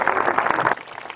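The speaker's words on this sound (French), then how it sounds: "Je vais demander un tonnerre d'applaudissements" Audience applause at a zoo donation ceremony, a short dense burst of many hands clapping that cuts off abruptly after under a second, leaving quiet room tone.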